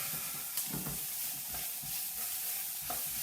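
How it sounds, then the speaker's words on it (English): Soft brown sugar caramelises and fries in a pan over a fierce gas jet, giving a steady, close sizzle with soft bursts of crackle and occasional stirring scrapes. "Now, I want to make a little bit of caramelisation with some soft brown sugar."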